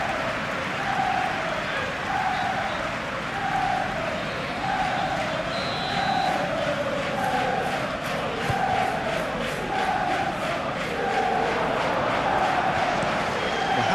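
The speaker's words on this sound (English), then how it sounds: "it certainly got the crowd going." A stadium crowd in a PES football video game match between Liverpool and Chelsea roars continuously, with rhythmic rising chants and cheering swelling throughout, loud and dense.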